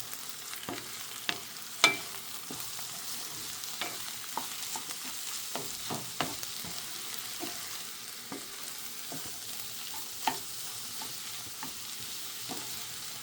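Egg being stirred as it fries in a pan for cauliflower rice, with scattered spatula scrapes and taps over a steady, quiet sizzle throughout.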